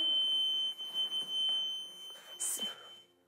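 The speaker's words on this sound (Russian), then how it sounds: "видите, сигнализация включилась" A steady high-pitched electronic alarm tone sounds through a museum apartment in Prague, continuous and clearly audible, while a person talks over it in Russian and footsteps and small bumps carry on nearby.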